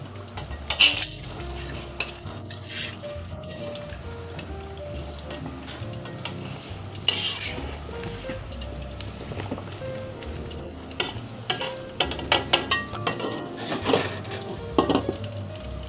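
Pork sisig sizzles and pops in oil in a covered pan, giving a continuous low crackle with scattered sharp pops and occasional clinks of cookware and utensils.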